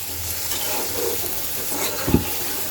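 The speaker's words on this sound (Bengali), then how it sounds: "এবার একটু মিক্স করে দেব যেন কোনোভাবে মশলার কাঁচা স্মেলটা না থাকে" Spice paste fries in a pan with a little water while it is stirred for a Bengali curry of Malabar spinach and tengra fish, a soft close sizzle with a brief scrape near the end and no talk.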